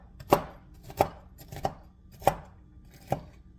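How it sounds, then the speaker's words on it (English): Pecans chopped on a board with a knife: five distinct, evenly spaced chops over a few seconds, each a sharp close thud with a quiet pause between, no voices. "so we got the pecans chopped"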